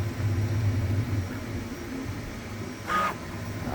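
A Creality K1 Max 3D printer runs steadily with a low motor hum and whirring fan noise, its stepper tones shifting as it begins laying down filament, with a brief brighter mechanical burst near the end.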